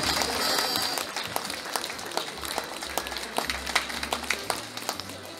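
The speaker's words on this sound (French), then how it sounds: "Mesdames et messieurs, sous vos applaudissements, Stone!" Audience applause at a travel fair presentation, a steady dense crackle of clapping that thins into scattered, uneven claps with a low rumble underneath.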